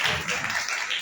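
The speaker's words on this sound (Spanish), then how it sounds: "Les pido un aplauso para la maestra Esmeralda Mesa" An audience at a lecture on divorce proceedings breaks into applause for a speaker, a short, bright patter of many hands clapping at close to moderate distance.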